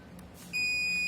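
A multimeter on continuity test gives a single steady, clean beep as its probes connect a laptop MOSFET's source pin to ground, starting partway in and holding to the end over faint background hiss.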